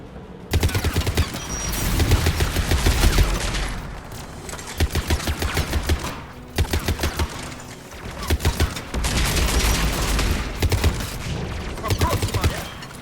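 Rapid automatic gunfire from tower defence guns in the Mass Effect 3 video game, loud sustained bursts of dense shots with brief pauses between volleys, close and dominant throughout.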